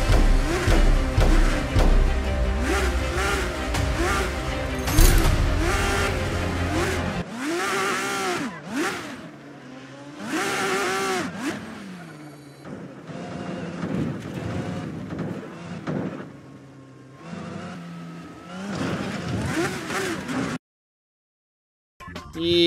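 Formula 1 race cars lapping a track in a racing video game, with engines whining and revving up and down as several cars pass in quick succession, loud and continuous, cutting out briefly near the end.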